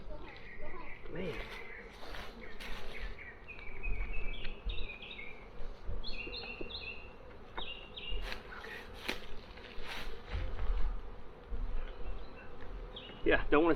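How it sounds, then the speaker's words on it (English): Honey bees buzz around a nuc hive during installation, a steady insect drone with sharp close passes, under intermittent talk and outdoor movement noise. "there's bees underneath here"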